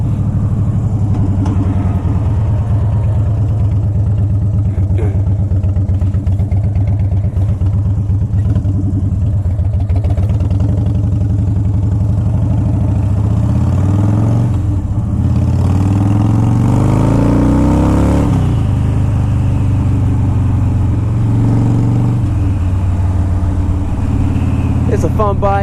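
A motorcycle with an aftermarket intake and ape hanger bars idles and runs close by, a loud, steady low engine rumble that swells briefly as it revs mid-way, with someone talking over it.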